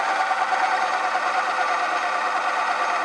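A carbide insert face mill spins at about 500 RPM on a milling machine, giving a steady, loud, even whirring drone that holds without a break and has no talk over it.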